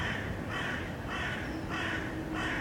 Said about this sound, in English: you'll hear in the background there is a crow